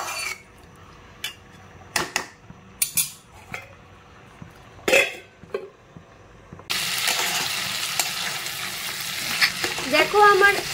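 Snake gourd pieces with spices in a pan, first a series of sharp spoon-on-pan knocks and stirring scrapes, then a sudden loud, continuous hiss and bubbling as water hits the hot pan and begins to boil.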